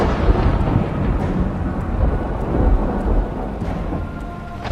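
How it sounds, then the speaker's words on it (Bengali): Heavy rain pours steadily while a loud, rolling thunderclap booms and rumbles through it, a storm effect for a Bengali horror audio story set at a cremation ground. "এবার প্রচন্ড জোরে একটা বাজ পড়ল"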